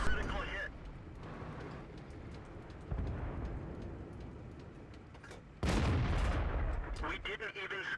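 Booming tank cannon fire and rumbling battle noise fill a match in a tank video game on an airfield map, loud and continuous, with a voice talking over it.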